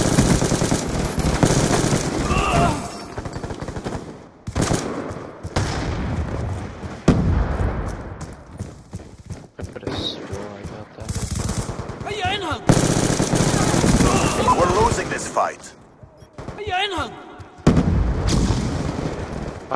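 Gunfire in the Call of Duty Black Ops video game, rapid automatic bursts and loud shots broken by brief pauses across about twenty seconds, with blasts and game sounds mixed in.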